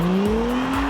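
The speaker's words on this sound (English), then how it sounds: "With all-wheel drive grip, it slings from rest" A 2017 Acura NSX in Sport mode accelerating hard from rest with all-wheel drive, its engine note climbing steadily in a loud, close, continuous rising growl.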